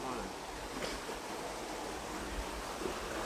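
Water flows steadily from the fountain at a hot spring bath in St. Thomas, Jamaica, a constant close wash of splashing and gurgling that fills the whole clip.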